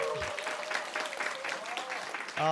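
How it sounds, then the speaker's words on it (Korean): A church congregation at a Wednesday worship service breaks into brief applause, a dense wash of clapping heard throughout, with a voice faintly carrying over it. "박수."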